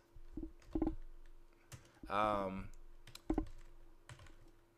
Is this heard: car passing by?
no